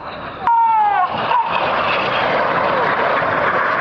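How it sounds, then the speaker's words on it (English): Four RAF aircraft flying low in tight formation sweep past overhead, a sudden loud roar swelling in and holding as a broad engine rumble with a falling whine, close and powerful, with crowd noise beneath. "Together, these 4 aircraft constitute JIPO formation, and this is the JIPO pass."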